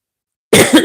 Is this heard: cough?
yes